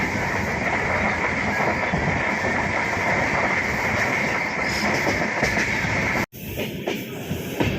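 A Mandovi Express train rumbling steadily along the tracks, a loud continuous roar with faint rhythmic clatter, briefly cut off near the end.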